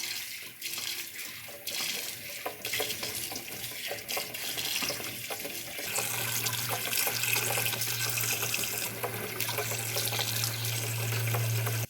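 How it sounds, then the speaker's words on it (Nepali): Tap water running steadily over boiled bamboo shoots being rinsed in cold water, a continuous close hiss and splash that grows slightly fuller partway through, with no voices. "तर्काइसकेपछि चिसो पानीले यसलाई यसरी पखाल्नुपर्छ नि त।"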